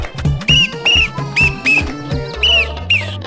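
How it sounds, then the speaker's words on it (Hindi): Repeated short, rising whistles sound at a steady rhythm, about six bright chirps in three seconds, loud and close over a Hindi comedy TV show scene with background music and thumping beats. "बे कहाँ छुप के सीटी बजा रहे हो?"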